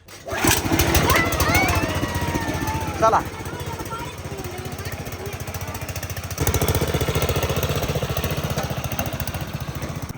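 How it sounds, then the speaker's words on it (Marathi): A tractor engine chugs steadily at a low, even rumble on a road during pothole filling, with a person speaking briefly over the running motor. "आता माऊली ट्रॅक्टर चालवणार आहे"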